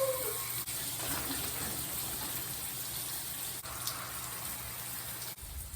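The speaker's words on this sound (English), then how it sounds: "I start by wetting one side of my hair at a time" Water runs steadily from a tap onto curly hair as one side is wetted, a continuous soft splashing hiss with no talking.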